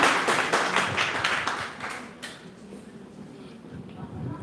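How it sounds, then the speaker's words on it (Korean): Applause from an audience at a company consumer meeting, welcoming a head-office assistant manager: a burst of clapping that is loud at the start and fades after about two seconds, with talk and room noise underneath. "다시 한번 뜨거운 박수 부탁드립니다."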